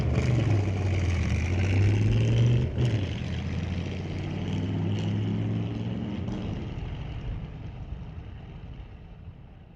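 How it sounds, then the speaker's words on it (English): Traditional flathead V8 hot rod launching off the line at an old time drag race, a loud rising engine roar with aggressive revving that peaks then recedes into the distance. "Gotta love the sound of a flathead V8."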